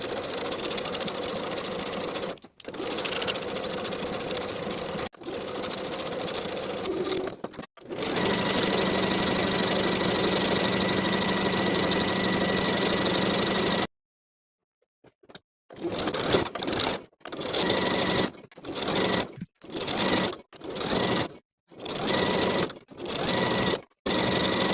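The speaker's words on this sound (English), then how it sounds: "we'll press the seam allowance toward the cardigan and top stitch in place" A home sewing machine topstitches a seam allowance in place on a knit cardigan facing, running in long steady stretches of whirring stitches, then a series of short start-stop bursts toward the end.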